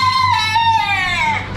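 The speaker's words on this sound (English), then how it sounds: "Some chicken." Chickens at a crowded animal and bird market, with a loud, close fowl call stretching into a drawn-out crowing cry over steady background hum.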